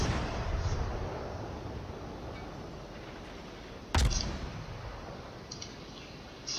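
Naval gun shot in the World of Warships game, fired from a Hermelin warship: a single sharp, loud blast over a steady, dense background rumble of engine and sea noise, with faint clicks later.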